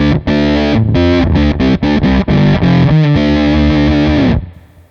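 Electric guitar played through a pedalboard with the octave effect switched off gives a dirty, distorted, ugly tone. A loud run of chords and notes rings out alone and decays at the end.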